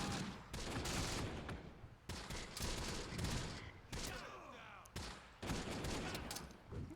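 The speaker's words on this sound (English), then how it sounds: "this infantry platoon is under heavy fire" Heavy gunfire from a WW2 infantry battle in the game Close Combat: The Bloody First, dense volleys of rifle and machine-gun bursts arriving in loud waves with brief lulls, a platoon pinned down in woods.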